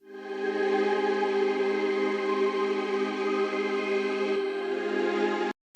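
Choir-like synth pad in FL Studio holding a sustained chord, smooth, steady and bright for several seconds before cutting off abruptly, with no voices.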